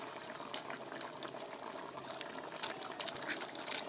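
Egg curry simmers in water under a lid, with soft, steady bubbling and small irregular pops that grow slightly livelier toward the end, heard up close but quietly.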